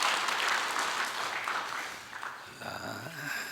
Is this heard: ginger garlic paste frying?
no